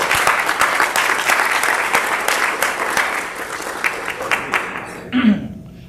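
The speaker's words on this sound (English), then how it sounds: "Let's give them a round of applause" Applause from a keynote audience at a speaker event, dense clapping filling most of the stretch, fading near the end with a brief voice or chuckle.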